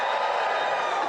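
Brief, steady roar of a comedy club audience cheering at a stand-up show at the Apollo, a dense wash of voices with no pauses.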